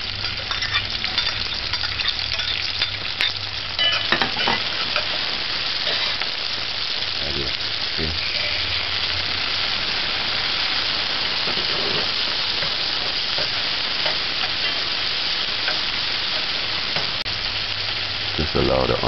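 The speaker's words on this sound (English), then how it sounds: "Just allow the onions to saute" Onions and garlic sauteing in a pan for saltfish macaroni give a steady, dense sizzle that runs unbroken and fairly loud throughout, with brief spoon or utensil knocks here and there.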